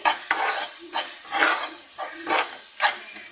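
Masala frying in a pan makes a bright, close sizzle broken by rhythmic scraping bursts from repeated stirring, roughly every half second, with no talking.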